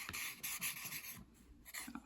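Pencil sketching a person on paper, quick soft scratching strokes in short bursts with a brief pause, close and quiet, no talk.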